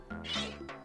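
A short Meowth cry from the Pokemon Snap video game, a close, clear, tonal meow with a rising and falling pitch followed by a brief second call, heard alone.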